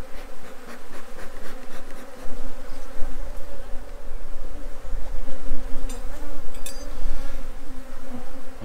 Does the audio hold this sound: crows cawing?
no